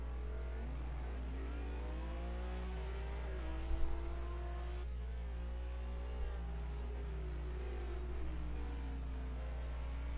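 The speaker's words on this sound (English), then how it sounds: "the Snaker's car sounds like an Indy car" GT3 race car engines in a Nürburgring racing video game rev and shift steadily, a continuous whining drone with rising and falling pitch sweeps as cars accelerate, moderately loud with no talking.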